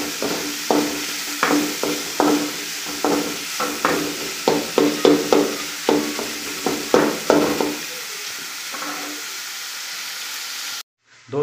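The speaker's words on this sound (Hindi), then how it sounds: "दोस्तों प्याज ज़्यादा नहीं भूनना, बस हल्का सा मुलायम होने तक भूनना है।" Onions frying in a pan while being stirred: a steady sizzle with a regular series of scraping stir strokes, close and fairly loud, ending abruptly.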